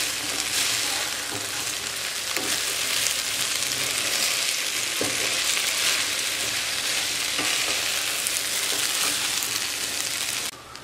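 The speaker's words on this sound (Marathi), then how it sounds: "या सगळं सोया आणि मटार बरोबर छान परतवून घ्यायचा आहे." Rice with soy chunks and peas sautés in ghee, a continuous close sizzle and hiss with occasional soft stirring scrapes, steady throughout.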